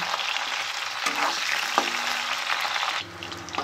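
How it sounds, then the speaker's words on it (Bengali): Cauliflower florets fry in hot oil in a Bengali home kitchen, giving a steady bright sizzle with a few stirring scrapes and a drop in intensity near the end. "দেখুন কপি ভাজা হয়ে গেছে"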